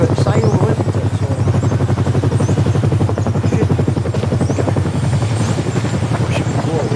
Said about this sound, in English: Oh, the Chinook.